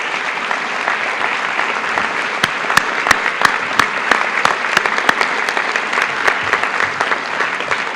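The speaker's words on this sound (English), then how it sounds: "Would you please stand and receive our applause?" Sustained applause from a large audience at a university inauguration ceremony, a steady, even roar of clapping with a few sharper individual claps standing out, continuous throughout and without speech.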